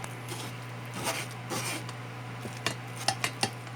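A spoon scrapes and presses mashed pumpkin through a metal strainer, giving soft rubbing strokes and a few sharp clinks near the end, quiet and close over a low steady hum.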